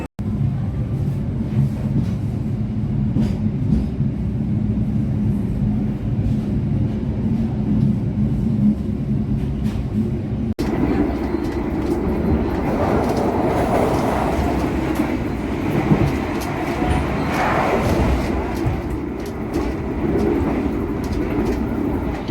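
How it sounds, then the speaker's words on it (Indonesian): The Gumarang passenger train rumbles past up close in Indonesia, steady low roar with rail clatter, growing brighter and louder partway through as cars rush by. "Ini dia kereta api Gumarang."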